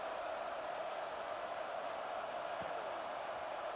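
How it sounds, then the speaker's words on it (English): Steady, faint broadband crowd murmur fills a college football stadium at the Alabama Crimson Tide vs Auburn Tigers game, a continuous even buzz with no distinct cheers or peaks. "this crowd is buzzing after that last score"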